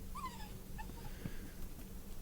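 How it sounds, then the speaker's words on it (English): A dog outdoors gives high whimpering yelps and short whines over a steady background hum, a few brief cries spread across a couple of seconds, with no clear barks standing out. "This dog is going nuts out here."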